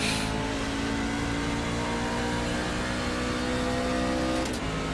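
A NASCAR Class C race truck in the iRacing simulator drives at Circuit of the Americas, its engine roaring loudly and continuously as it accelerates and shifts up, with no talking.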